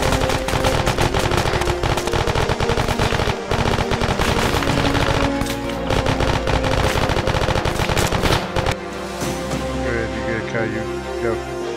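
Sustained automatic gunfire from the military video game Arma 3, loud and nearly continuous bursts of rapid shots for about nine seconds, then tapering off into scattered fire and game ambience.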